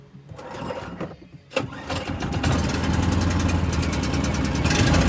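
Engine of a log splitter cranks and catches after a few rough starts, then settles into a loud, steady running drone close by, with no voices.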